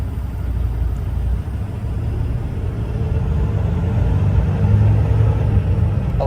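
An International truck pulls away and speeds up to about 5 mph with a low, continuous engine rumble that swells gradually, heard from inside the cab with no voices.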